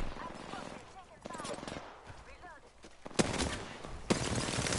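Gunfire in Apex Legends: scattered shots under chatter at first, then two sharp loud reports each followed by a sustained rapid burst of automatic fire, close and loud, with people talking throughout.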